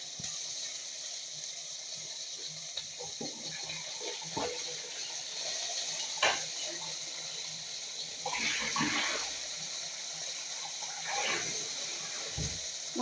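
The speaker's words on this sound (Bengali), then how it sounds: "তো মাংস ওয়াশ করছি।" Tap water running steadily while raw meat is washed by hand in a kitchen, a quiet continuous flow with occasional splashes and handling sounds.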